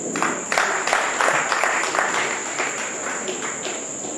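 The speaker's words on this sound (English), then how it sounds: "There's a big round of applause for Mr. Awolowo" A round of audience applause at a closing ceremony, steady crowd clapping at moderate level over a constant high electronic whine from the live stream, with little talk beneath.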